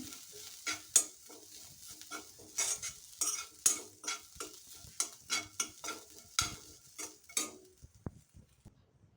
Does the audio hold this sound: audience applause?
no